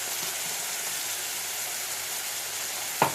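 Fennel seeds, cumin and onions frying in hot oil, a steady, even sizzle held close throughout, with a single faint clink near the end.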